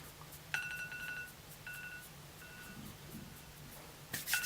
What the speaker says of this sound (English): Timer hasn't stopped ringing yet.